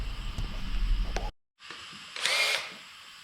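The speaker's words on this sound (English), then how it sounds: "and then I come back with the drill" A power drill bores holes through the steel trunk floor of a GTO, a near, whining run that halts briefly and then spins up again, loudest toward the end.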